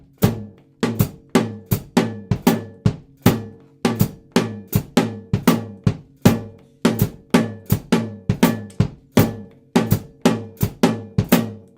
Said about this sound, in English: The first one you'll see there is bass drum and the tom part together.